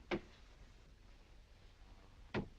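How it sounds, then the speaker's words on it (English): Two sharp metallic knocks from steam in water pipes ring out a couple of seconds apart, faint and hollow against a quiet room hum. "just the steam in the water pipes"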